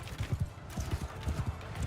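Horses galloping through a battle in Mount & Blade II: Bannerlord, a rapid uneven clatter of hoofbeats in repeated bursts, fairly close and loud, with no voices over it.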